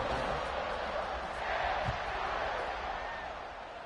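A stadium crowd roars at kickoff in the video game College Football 26, Arkansas versus Duke, as a broad, steady wash of cheering heard fairly faintly.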